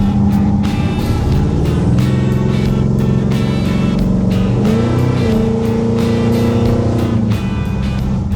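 A loud, steady engine rumble from a classic car, a 1951 Ford Custom or 1956 Chevy Bel Air, with rising and falling revs, driving close by, continuous throughout with no voices.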